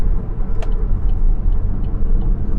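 A 2013 Chevrolet Volt cruises on electric power, heard from inside as a steady low road and tire rumble with a brief tick partway through.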